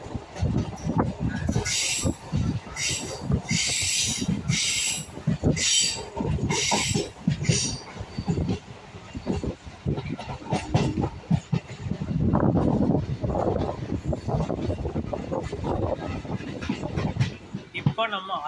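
A 12-car MEMU express train running from Chennai Beach to Tiruvannamalai rumbles steadily with rhythmic wheel clatter and hiss inside the carriage, while a person talks over the noise.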